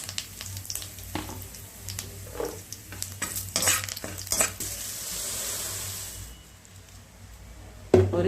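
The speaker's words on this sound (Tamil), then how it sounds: "முடிஞ்ச அளவு பூண்டை நல்லா வறுத்துக்கணும்" Garlic fries in oil in a pan, a moderate sizzle broken by repeated spoon stirs and scrapes in the first half, then a quieter steady hiss, ending with a sharp clatter, close, no talking.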